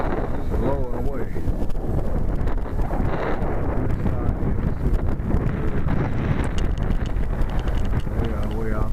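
Strong gusty wind of about 25 mph buffets the microphone at an RC flying field, a loud continuous roar with low rumbling bursts throughout, and a voice speaks briefly beneath it.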